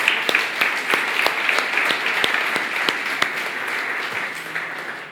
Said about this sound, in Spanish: ¿qué tal si damos un aplauso grande al nombre del Señor?